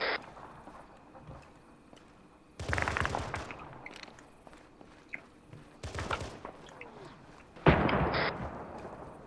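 Gunfire in a military video game: three bursts of loud, dense firing, each several shots long and separated by quieter stretches with faint distant pops and soft thuds.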